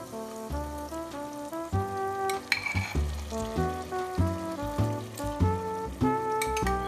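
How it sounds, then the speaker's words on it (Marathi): Soaked, cooked moth beans go into masala frying in oil for misal, a soft sizzle and stirring under steady background music. "आता यात मी भिजवून शिजवून घेतलेली मटकी टाकत आहे।"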